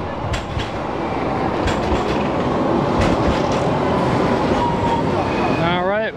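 Tram running along a street in Istanbul, a steady loud rumble of wheels on rails with clicks and a rising metallic squeal near the end, surrounded by street noise.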